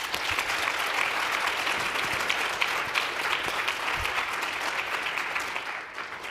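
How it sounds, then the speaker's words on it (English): Sustained applause from a conference audience after a cyber-workforce panel, a dense and loud wash of many hands that runs without pause and eases slightly at the end. "So I would hope we could give them a big round of applause."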